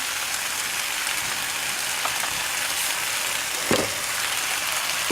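Potatoes fry in a pan, a steady, even sizzle and crackle like light rain that holds at moderate loudness, with one brief louder pop partway through and no talk.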